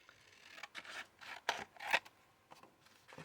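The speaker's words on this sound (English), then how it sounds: "So I'm just going to cut off a little bit." Scissors snipping through coffee filter paper, a few faint crisp cuts and soft rustles at close range in a quiet room.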